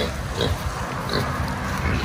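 Pigs on a Philippine hog farm grunt and snuffle close by, low rough oinks repeating irregularly over a steady noisy pen background, with no talk.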